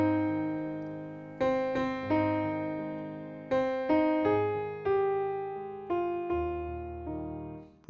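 Brahms' Lullaby melody on a piano-like instrument, opening with a minor third, a slow series of clear sustained notes each struck and decaying, close and alone.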